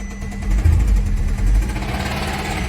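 A Volkswagen 2.0L EA888 engine, suspected of rod knock, runs with a steady low rumble as the car is put into gear, close and continuous with no voices.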